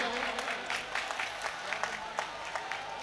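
An audience at a Hindi comedy poetry gathering gives a poet a quick round of applause, with rapid scattered clapping heard from a distance.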